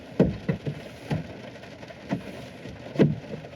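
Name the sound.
rain falling during podcast recording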